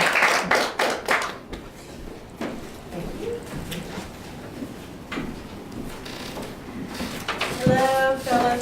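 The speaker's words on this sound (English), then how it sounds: "please give a round of applause for Susan." A small Toastmasters meeting audience gives scattered applause for a speaker, a few sparse hand claps up close, some louder bursts at the start and end, with room noise and brief voices between.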